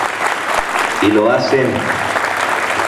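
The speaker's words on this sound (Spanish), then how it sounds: "el aplauso grande para aquellos que dedican ese esfuerzo" Audience applause at a scholarship award ceremony for students of a school in Salta, a steady clapping wash running throughout while a voice speaks briefly in the middle.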